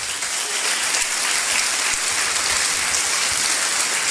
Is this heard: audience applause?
yes